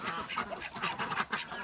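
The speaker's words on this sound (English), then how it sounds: "the ducks are integrating better." Farm ducks and geese calling together, a close flurry of rapid quacks and nasal honks overlapping in uneven bursts, fairly faint overall.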